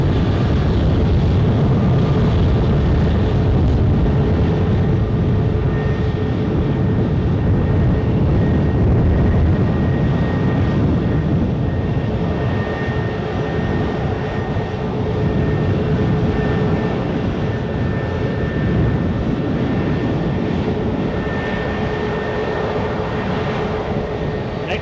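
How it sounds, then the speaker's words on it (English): A British Airways A320 jet arriving from Heathrow at Edinburgh gives a loud, sustained engine rumble with faint whining tones, easing slightly toward the end. "Arrival is also British Airways, an A320 from, you guessed it, Heathrow."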